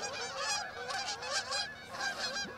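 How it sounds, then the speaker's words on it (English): A flock of geese honking repeatedly overhead in late-year migration, steady overlapping calls carrying across open water from a fishing boat. "These geese, man."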